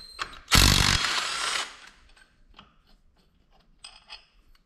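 A brief loud burst from an impact gun takes out the 5/8 primary clutch bolt on a Polaris Sportsman 500 ATV, followed by quiet clinks and light metallic taps nearby, with no talking.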